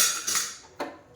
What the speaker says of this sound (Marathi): मी गॅसवर